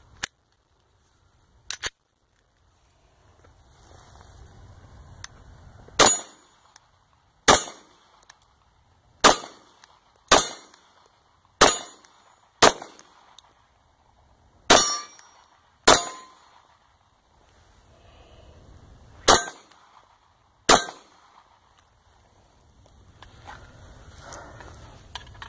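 An FNX-45 pistol fires at targets on a range: about a dozen sharp, loud reports, some spaced a second or two apart and others in quicker pairs, with quiet gaps and faint handling between strings.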